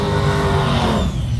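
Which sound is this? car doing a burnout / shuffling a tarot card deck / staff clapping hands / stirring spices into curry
car doing a burnout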